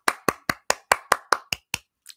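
Hands clap nine times in a quick, even rhythm, each clap sharp and close, with no talking over them, followed by one fainter tap.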